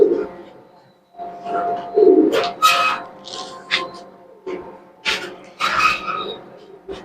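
Pigeons cooing in a loft, several birds heard close by in repeated low throaty coos with brief wing or scuffling noises between them, plus a faint bark-like call.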